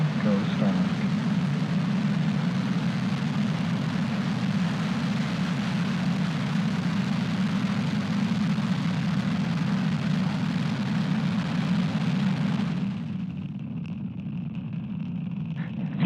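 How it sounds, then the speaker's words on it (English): Falcon 9 rocket engines igniting at liftoff, a heavy, steady rumbling roar that holds loud and constant for about thirteen seconds before dropping away to a fainter hiss, with a voice over parts of it. "Ignition and liftoff."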